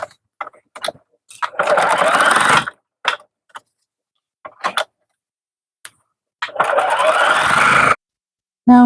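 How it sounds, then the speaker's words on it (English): A sewing machine stitches around the pinned top of a fabric tote bag made from four strips. It comes in short, close bursts of fast whirring separated by silent pauses, with two longer runs of stitching. "Now that it's all pinned, we're going to sew right around the top."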